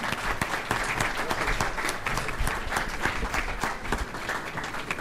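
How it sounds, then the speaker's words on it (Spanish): Audience applause for a researcher introduced at an academic talk on higher education statistics, a continuous dense patter of many hands clapping, fairly near and steady, with no speech over it. "Un aplauso, por favor."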